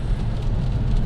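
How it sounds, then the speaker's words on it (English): Steady rain falls on a Seattle street, a dense continuous patter and hiss with low rumbling underneath, no voices present. "you can see here, got the rain going"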